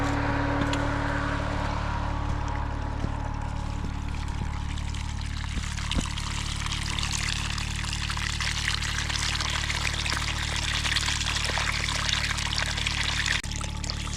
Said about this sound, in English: it's pumping out. It's quite a lot of water there